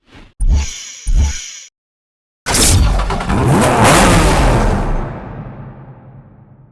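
Two short sharp revving bursts from a 5.4-liter V8 car engine in a Need for Speed Hot Pursuit racing game, a brief silence, then a long loud sustained roar that slowly fades.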